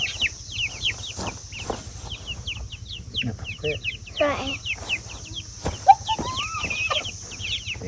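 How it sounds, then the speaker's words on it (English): A rooster among young chicks in a backyard grow-out run gives repeated short clucks and calls in a busy chorus, with other birds chirping nearby and brief spoken words over a low steady hum. "it's a rooster."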